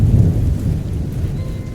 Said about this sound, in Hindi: बारिश की आवाज़ और तेज़ महसूस होने लगी थी